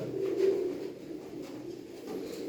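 A young smoke-coloured pigeon at a live pigeon auction coos steadily in a low, throaty tone, close and fairly loud, with no talking.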